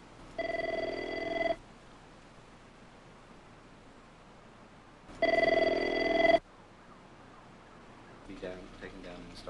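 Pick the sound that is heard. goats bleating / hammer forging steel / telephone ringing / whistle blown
telephone ringing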